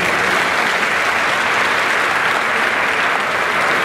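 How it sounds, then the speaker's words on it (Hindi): An audience at an Indian student parliament gathering claps in welcome. A thick, continuous wash of applause stays loud and even throughout, and no one speaks over it. "आपने तारीफों भरी तालियां बजाकर मेरा स्वागत किया है"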